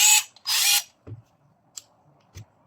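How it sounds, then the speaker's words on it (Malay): Handheld SATA electric screwdriver tightening a low-torque bolt: two short loud whirring bursts of the motor, then a few faint clicks and knocks as the bit is handled, close up and without talk. "Boleh juga kalau nak ketatkan bolt yang tak perlukan torque tinggi okey."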